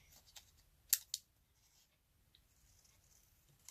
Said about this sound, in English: So I'm going to cut this down.